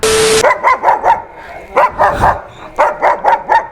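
A dog barks repeatedly in quick, rhythmic bursts, loud and close, after a brief high-pitched beep at the start.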